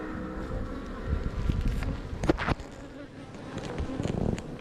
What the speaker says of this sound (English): lots of lovely bees